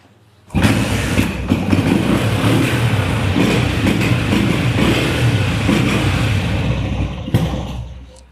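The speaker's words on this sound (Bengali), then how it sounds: "দেখলেন স্টার্ট করলাম কত সুন্দর সাউন্ড পটপটা সাউন্ড" A 125cc motorcycle engine kicks into life abruptly, then idles with a loud, steady, throbbing putter close by before cutting off near the end.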